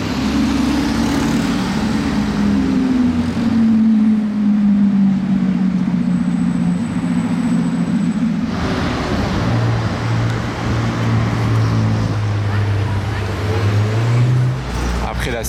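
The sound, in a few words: Lamborghini V12 engine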